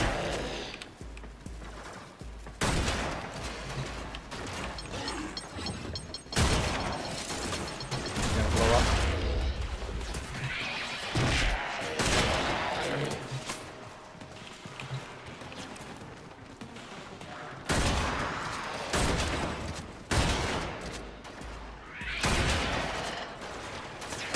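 Bursts of gunfire in the video game Warframe come in repeated loud volleys with pauses, mixed with clattering effects while a voice talks at times.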